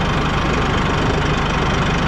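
Massey Ferguson 1E.40 compact tractor engine running steadily in four-wheel drive, a continuous close mid-low drone with a faint knocking texture, no voices.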